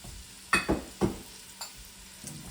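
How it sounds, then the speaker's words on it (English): Onions hitting a hot pot, with a few sharp hissing sizzle bursts over a low background hiss, fairly close. "you hear the sizzle?"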